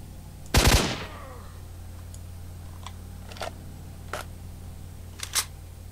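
Gunfire in S.T.A.L.K.E.R. Shadow of Chernobyl: a quick loud burst of a few close shots, followed by several fainter scattered cracks and clicks over a low steady hum, no talking.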